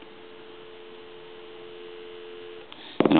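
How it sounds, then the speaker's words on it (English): Steady telephone dial tone on a repaired Princess phone, a constant low tone with faint hum for about three seconds before a click and a burst of other tones at the end. "Give you some dial tone."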